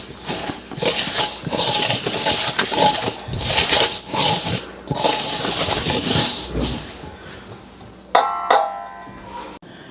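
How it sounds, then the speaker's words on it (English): A Danish whisk stirs dinner roll dough by hand in a bowl, making steady scraping, rubbing strokes in a repeating rhythm for several seconds, close and fairly loud, followed by a few sharper clinks near the end. "I'm using a Danish whisk to mix this up"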